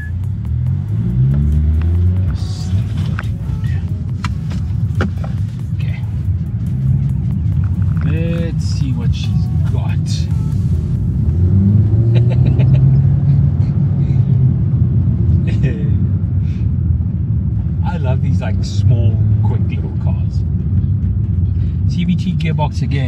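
A small car with a CVT gearbox, rated at 103 kilowatts, drones and rumbles as it accelerates through a quiet area, its engine note holding steady rather than stepping through gears, with someone talking over it throughout.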